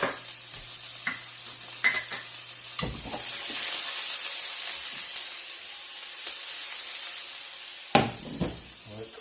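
Onion frying in a hot pan for lasagna, a steady loud sizzle running throughout, broken by a few sharp clatters of a utensil against the pan.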